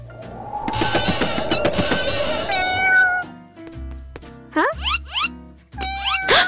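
An abandoned kitten meows in a rising, plaintive cry that bends upward, followed by several shorter squeaky meows, after a stretch of busy music at the start.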